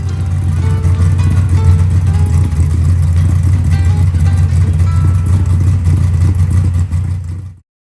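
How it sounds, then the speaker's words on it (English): A Chevrolet Malibu race car engine idling after a valve adjustment, a loud, steady, lumpy low drone close by that cuts off abruptly near the end. "we put the car back together and fired it up to listen to the engine run with the valves adjusted"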